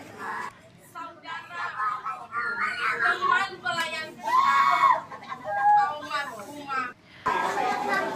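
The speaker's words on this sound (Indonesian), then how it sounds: "Jeritan bocah berusia tujuh tahun ini terasa menyayat, begitu memilukan di tengah ibadah pemakaman" A seven-year-old boy wails and screams in grief at a funeral service beside his mother's coffin, with rising, quavering cries in uneven bursts and short pauses, moderately loud amid faint background voices.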